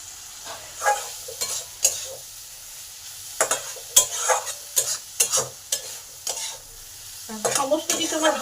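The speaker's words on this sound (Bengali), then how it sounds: "মশলার কষা গন্ধটা যতক্ষণ না যাচ্ছে ঠিক ততক্ষণ ভালো করে কষে নিতে হবে।" Spice paste stir-fried in hot oil, sizzling softly while a utensil scrapes and stirs the pan in irregular taps and scrapes, close and fairly quiet.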